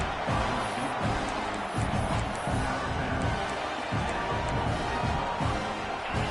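Home crowd in a college football video game stadium roars steadily throughout, a dense continuous cheering wash with no break.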